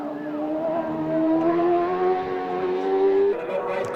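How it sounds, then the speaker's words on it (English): Formula Honda single-seater race cars at Donington Park howl past, a rising engine whine climbing through the gears over a few seconds, fairly loud and steady with faint commentary beneath. "Great sound from these engines as they howl their way up the gearbox."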